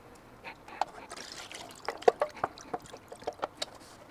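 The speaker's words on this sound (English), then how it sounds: "Let's go ahead and dump out whatever fuel is inside here." Fuel pouring and dribbling out of a Honda GX390 engine into a container indoors, a steady liquid trickle with splashy bursts growing more distinct toward the end, close and moderately loud.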